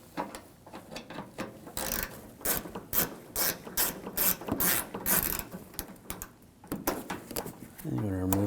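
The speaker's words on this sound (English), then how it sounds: "Use a 8mm socket." A ratchet turns an 8mm socket to back out a front upper grille screw on a 2007–2013 BMW 328i, clicking rapidly and steadily in repeated close bursts, with a brief voice near the end.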